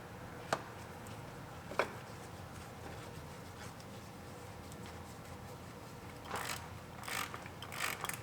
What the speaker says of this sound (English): Now we'll put our new filter on.